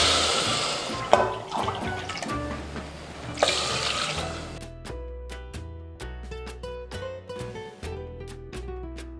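Water poured from a container onto a quarter kilo of chicken in a pot for soup, a steady rushing stream with bright splashing bursts, running over music.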